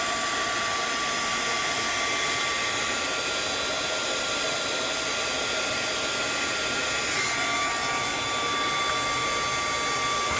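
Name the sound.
heat tool softening coloring book glue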